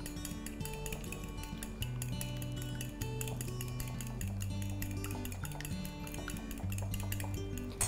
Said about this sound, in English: just take a fork and basically mix it like this